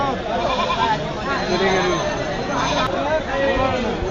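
Goats bleat among a crowd at the Rail Bazar livestock market in Dinajpur, their wavering calls mixed into a busy babble of people talking nearby.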